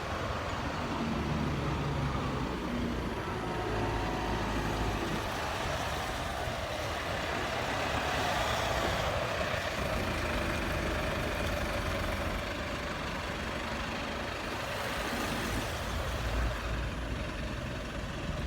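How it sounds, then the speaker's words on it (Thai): A vehicle drives off a river ferry boat, its engine rumbling steadily at close range over broad, continuous noise with no voices. "รถกำลังขับออกจากเรือ"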